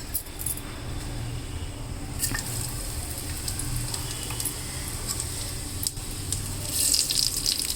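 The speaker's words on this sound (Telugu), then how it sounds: "ఇట్లా మెంతులు వేసి కాగబెడితే చూడండి అడుగున" Fenugreek seeds fry in hot oil for a tempering, making a soft, continuous hissing sizzle with scattered faint crackles, quiet and close, with no talking.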